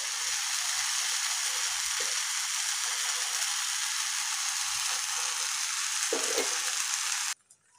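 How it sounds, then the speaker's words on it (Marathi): Sabudana thalipeeth roasting in ghee over a medium gas flame, a steady close hiss of frying with a few soft taps, holding evenly until it cuts off abruptly near the end, no voices. "आणि मध्यम गॅसवर याला असं भाजून घेऊया"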